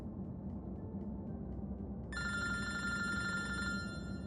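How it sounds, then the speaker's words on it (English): A mobile phone ringing inside a nearly empty bus: a bright repeating electronic ringtone begins midway and sounds clearly over a steady engine rumble, with no talk. "My phone rings, and I look at the screen doubtful."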